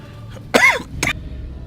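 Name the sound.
cough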